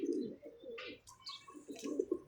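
Pigeons coo close by in soft, repeated throaty bursts, with occasional brief chirps and light rustling, all at low volume and with no talk.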